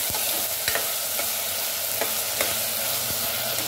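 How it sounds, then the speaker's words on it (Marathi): Green peas and potato pieces are stir-fried in a pan, a steady close sizzle broken by repeated scraping strokes and clicks of a spoon against the pan, with no voices. "आता मटार आणि बटाटा टाकायचा आहे। त्याला आपल्याला 1 मिनिटासाठी परतवायचं आहे।"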